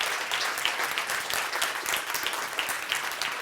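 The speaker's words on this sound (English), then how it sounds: "I'm very happy that the Vice Rector is applauding." Dense, steady applause from a lecture audience fills the room after a talk on the ecology of war and Gaza, many hands clapping continuously and fairly close, with no voices rising above it.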